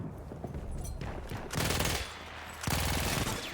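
Gunfire in the World War I shooter Battlefield 1, with loud bursts of shots around the middle and near the end over continuous battle noise.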